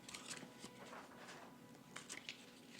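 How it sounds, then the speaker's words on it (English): Playing cards being shuffled at a tabletop role-playing session, a soft riffling patter in short bursts close by, with no one speaking over it. "Stop shuffling so loud."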